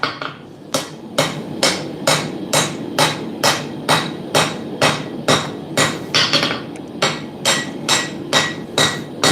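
A Chinese-made power hammer forges metal with loud, close, evenly spaced blows, about two per second, in a steady rhythm that runs through the whole stretch with no voices.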